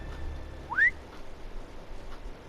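In a Game of Thrones video game, a person lets out a single short whistle with a rising pitch against a quiet, low ambient background.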